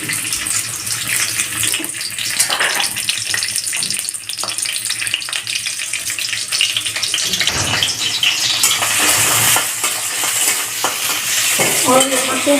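Cauliflower, potatoes, garlic and onion sizzle and crackle in a hot pan during tempering, a dense steady frying hiss with occasional stirring scrapes and no voices.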